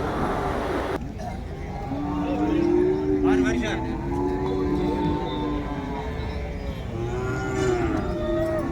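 Cattle at a busy cow market, including Jersey calves and Kangayam cows, low repeatedly in long, wavering moos of varying distance, while someone talks over the steady crowd noise.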